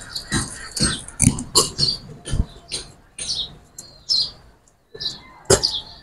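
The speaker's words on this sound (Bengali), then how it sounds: "তো এই দুটা কবুতর আমি ছেড়ে দেখাচ্ছি।" Two very young Pakistani pigeons, still with yellow down, let go up close: a string of sharp, high chirps and squeaks, mixed with brief rustling, flapping bursts, irregular and fairly loud, with no talking.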